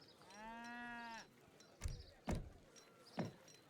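Red Fulani cattle in Age of Empires III: one drawn-out moo at the start, followed by three short dull thuds spaced apart, all heard close over a quiet background.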